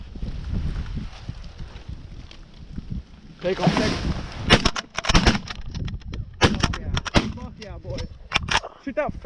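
Several sharp shotgun blasts crack outdoors during a mallard field hunt, first one, then a rapid cluster, with wind noise and people talking between shots.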